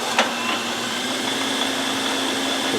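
A Logan metal lathe with a turret attachment runs in reverse, backing the tool out, giving a steady, close whirring motor drone with a faint high whine and a brief knock near the start.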